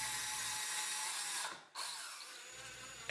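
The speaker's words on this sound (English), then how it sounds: "Prepare some holes with a drill." A power drill whines steadily, briefly stops and spins down, then starts again, close and fairly quiet.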